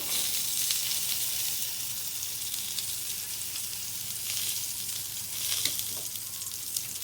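Eggplant slices fry in very hot oil on a tawa, giving a loud, continuous close sizzle with steady crackling and occasional sharper pops.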